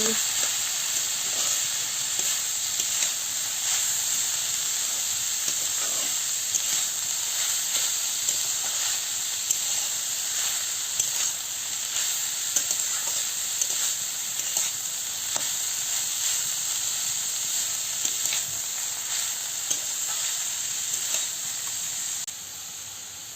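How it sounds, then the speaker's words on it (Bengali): Banana stem (thor) frying with mustard paste in a pan makes a loud, continuous sizzling hiss with frequent scraping and stirring clatter throughout, easing slightly at the very end. "সরষে বাটা দিয়ে ভালো করে কষাচ্ছি"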